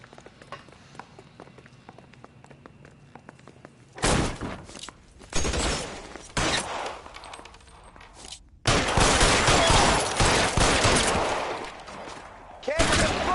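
Gunfire in the video game L.A. Noire: loud bursts of rapid shots in several clusters, with a long sustained volley near the end, following a quieter stretch of low background sound.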